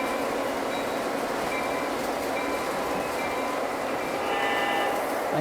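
A Lionel model train rolls along its track pulling freight cars, making a continuous close rumble with light clacking and faint squealing wheels for the whole stretch, with no talk.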